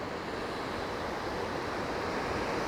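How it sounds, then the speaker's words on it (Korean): Strong ocean waves roll in at Gapado island, a steady, loud wash of surf mixed with wind noise, continuous and without talk. "지금 가파도에는 파도가 좀 세게 불어오네요."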